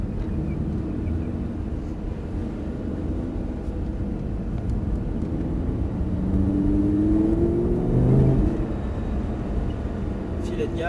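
Lamborghini Gallardo engine accelerating on the Abbeville race circuit, a steady close interior drone that builds and swells in pitch as revs climb, under continuous spoken coaching.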